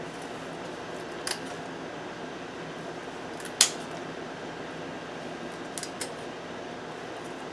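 Scissors trim the bare root ends of a Dendrobium pulchellum orchid, giving a few faint, sparse snips against a quiet background hum, with one sharper cut near the middle.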